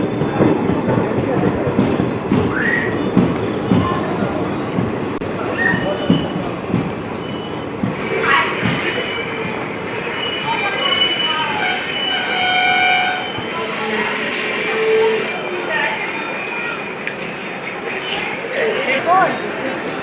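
A Sealdah–Lalgola passenger train sits and moves at a busy station platform, with rumbling, wheel squeal and clanks under continuous talk from a crowd of waiting passengers.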